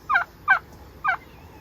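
A farm turkey gobbles three times in quick, rattling bursts, close and fairly loud against a quiet background.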